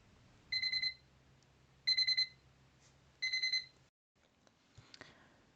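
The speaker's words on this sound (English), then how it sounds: "Naruto stood up and hit the off button from his alarm clock." An alarm clock rings in three short bursts of rapid, shrill beeping with pauses between them, then cuts off, leaving only faint rustling and a soft click.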